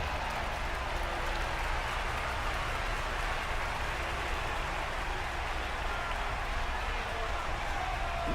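Steady, dense crowd cheering and applause from a wrestling video game demo on the original PlayStation, a continuous hiss-like roar with no breaks.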